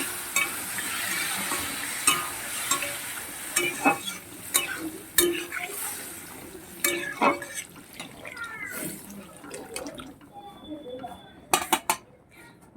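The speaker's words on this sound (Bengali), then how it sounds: "এবার আমি জল দিয়ে দিচ্ছি" Metal utensils scrape and clink against a pan over a sizzling hiss of vegetables, with brief splashy bursts as water is added, fairly close and irregular throughout.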